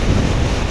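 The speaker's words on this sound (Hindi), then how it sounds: "एक ऊपर से तेज़ हवा जो है ना वो चल रही है" Strong wind blowing across an open road on a trip toward Lulusar Lake, a loud steady roar buffeting the microphone with heavy low rumble and no speech.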